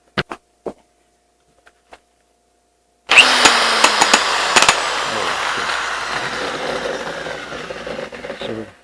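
An electric power drill with a newly replaced chuck, a few sharp clicks and taps, then the motor kicking in loud and close with a steady whirring hum that runs on.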